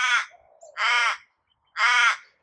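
A crow gives three loud, harsh caws, each about half a second long and evenly spaced, against an otherwise quiet background.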